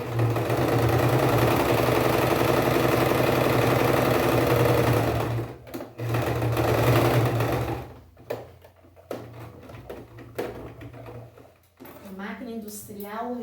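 An industrial sewing machine stitches fabric along a marked line with a loud, fast, steady whirr for about five seconds, pauses, then runs in shorter bursts, and a voice is heard near the end.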